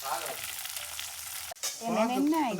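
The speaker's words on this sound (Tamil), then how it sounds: "மீன் பொரிக்கிறோம்" Fish fries in oil, sizzling steadily up close, a crackling frying sound, briefly interrupted by a clunk before a voice speaks over the hiss.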